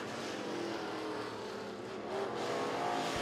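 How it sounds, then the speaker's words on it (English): Race cars in a B Hobby heat race on a dirt track, heard as a dense continuous engine roar at middle distance that swells slightly near the end, with no talking. "Jamie Lackey certainly in control of this B Hobby heat race"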